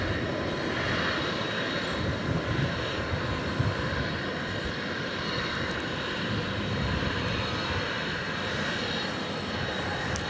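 Tri-jet airliner engines roar steadily on a DFW runway at night, a loud, continuous broadband rumble with a faint whine that holds for ten seconds without voices.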